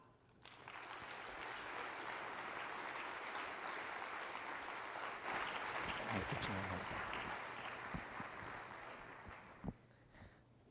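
Sustained applause from a lecture audience welcoming a professor to the stage, steady and full for about ten seconds before tapering off, with no talking over it.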